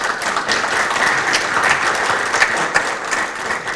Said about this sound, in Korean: 원장님께 다시 한번 큰 박수 부탁드리겠습니다.